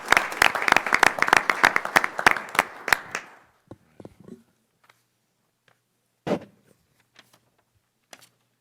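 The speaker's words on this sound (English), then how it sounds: "one more round of applause" Round of applause from an audience at a university board of curators meeting, dense clapping for about three seconds that then thins to a few scattered claps and stray noises.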